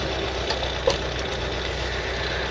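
A tired, worn engine in a Ford Cortina MK3 estate idles with a steady, even rumble and faint periodic ticks, close and continuous with no talking.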